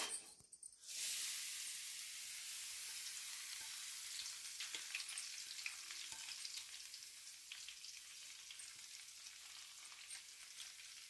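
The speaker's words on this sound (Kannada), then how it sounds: "ಈ ಕ್ಯಾರೆಟನ್ನು ಹಾಕಿ ಗೋಲ್ಡನ್ ಬಣ್ಣ ಬರೋವರೆಗೂ ಚೆನ್ನಾಗಿ ಫ್ರೈ ಮಾಡಬೇಕು ತುಪ್ಪದಲ್ಲೇ" Grated carrot frying in ghee, opening with a brief clatter as it goes in, then a steady close sizzle with light crackles and scattered stirring scrapes, no talk.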